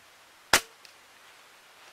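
A single sharp shot from a BSA R-10 MK2 air rifle fired at a target about 45 metres away, a loud close crack with a brief decaying tail against a quiet background.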